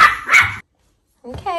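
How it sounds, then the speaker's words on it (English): A Pomeranian dog barks indoors in two short, sharp bursts close to the mic, then after a brief silence lets out a higher, yipping whine. "Can you please not bark?"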